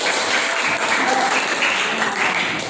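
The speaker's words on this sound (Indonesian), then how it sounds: "Tepuk tangan buat kelompok 4." A classroom of students applauds a group after its presentation in a ninth-grade Islamic jurisprudence lesson. The clapping is loud, close and steady, forming a continuous wash from start to finish with no clear talk above it.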